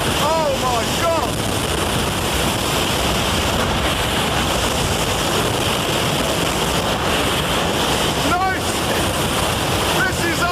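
Storm-force wind of about 60 miles per hour roars loud and constant, buffeting the microphone with broadband rushing noise throughout, while shouting voices break through now and then.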